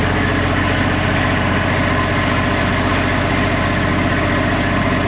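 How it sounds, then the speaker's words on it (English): Loud, steady mechanical drone of a generator running close by aboard a Lagoon 400 catamaran, a constant low throbbing hum with no other sounds. "the generator is running on the boat right now"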